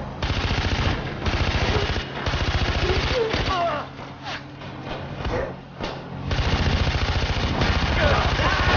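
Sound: machine gun fire in the video game Far Cry 4

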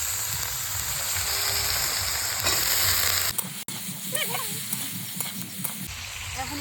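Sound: frying chopped onion and green chilli in a pan

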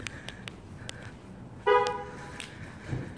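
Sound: car horn chirp from locking the car

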